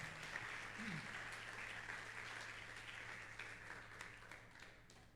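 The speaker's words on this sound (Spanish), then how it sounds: "Dale un aplauso al Señor por la palabra." A church congregation at a Sunday service applauds steadily, faint, even clapping that tapers slightly, with a low hum underneath.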